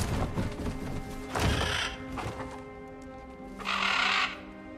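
Crows caw in the video game God of War Ragnarok, with harsh, raspy bursts over a busy game soundscape and a louder, longer caw near the end.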